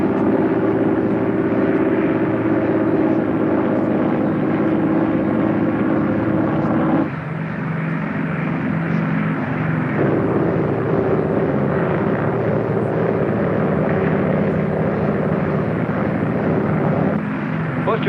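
Propeller airliner engines droning in flight before landing, a steady, loud, continuous hum with a slight shift in tone partway through, and voices talking over it.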